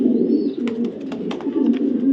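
Two pure white racing pigeons coo steadily in deep, throbbing murmurs at close range, broken by light scratchy rustles.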